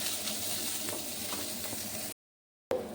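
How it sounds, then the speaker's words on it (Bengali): Steady, close sizzling of chopped onions frying until reddish-brown in a hot pan, a dense crackle that runs continuously before cutting out briefly near the end. "এবার আমি ওগুলো একটু লাল লাল করে ভেজে নেব"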